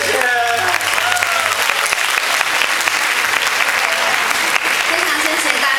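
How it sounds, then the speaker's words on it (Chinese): An audience at the close of an outdoor forest-night performance gives a full, dense round of applause for the Forestry Bureau. The clapping is loud and sustained throughout, with faint voices underneath. "那帮林务局掌声一下好了，林务局谢谢。"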